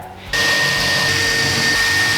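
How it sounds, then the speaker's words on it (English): A power drill bores holes through cardboard into a wall, starting abruptly after a brief quiet moment and then holding a loud, steady whine with no talking. "now I'm gonna drill through these 3 holes as straight as possible to punch through the other side"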